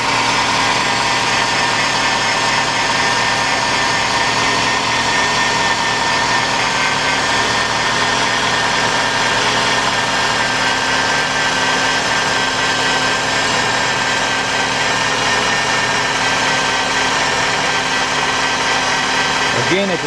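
A 2012 Ford Fusion with a 2.5 liter engine and 93,173 miles idles at a salvage yard, a steady, even hum with a constant rumble and no change in pace, loud and close.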